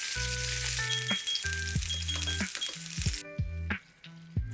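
Food frying in a pan for a high-protein diet bento, a close steady sizzle with clinks of utensils and a ringing chime-like beeping over it, the sizzle dropping away near the end.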